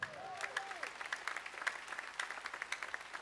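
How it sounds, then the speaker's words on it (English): A church congregation gives a clap offering during a service, a distant, steady patter of many hands that stays fairly faint throughout with a faint tone underneath. "Give Jesus a clap offering."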